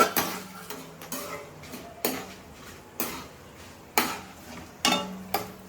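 A spoon stirs ridge gourd peels in a pan over low heat, giving a series of sharp metallic scrapes and clinks roughly once a second, with only a faint sizzle under them.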